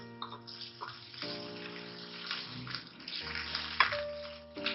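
Yogurt simmers with peas in a pot for pulao, giving a soft bubbling sizzle and gentle stirring at low volume, with some faint tonal background underneath.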